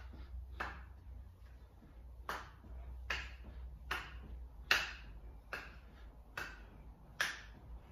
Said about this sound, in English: Good, and clapping under the legs.